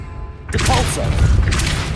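A Depulso force spell cast in Hogwarts Legacy lands as a sudden booming thud with a crashing, mechanical rattle that follows, loud and close, over a brief stretch of game ambience.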